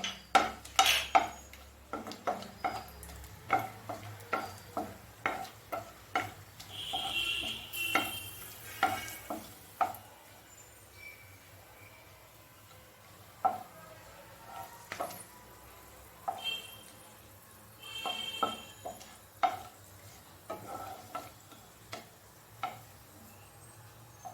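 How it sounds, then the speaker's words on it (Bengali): Cloves, cinnamon, green and black cardamom dropped into hot oil for a duck egg korma, giving a soft sizzle under repeated sharp clinks and scrapes of a spoon against the pot, close by, with no voices. "তেলটা গরম হয়ে গেছে, এখন আমি এর মধ্যে লবঙ্গ, দারচিনি, এলাচ, ছোট এলাচ আর বড় এলাচটা দিয়ে দিচ্ছি"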